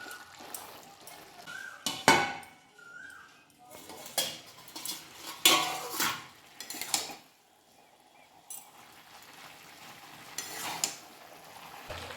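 A metal lid is set on a pot of leafy greens being cooked, with light clinks, scrapes and knocks of utensils and cookware in a home kitchen, moderately close and uneven.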